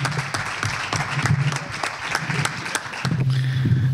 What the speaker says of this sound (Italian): Amici, Domenico Dara, accogliamolo con un applauso.